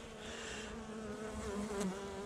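Honeybees buzz at an open hive during an inspection, a steady close drone with a faint rising whine near the end and no talk.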